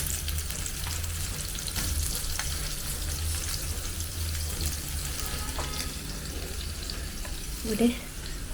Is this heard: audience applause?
no